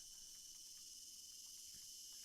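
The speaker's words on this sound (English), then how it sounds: "Honestly, I wouldn't change the cicada sound for the world." Cicadas drone in a steady, unbroken high buzz, faint and distant, with no talk over it.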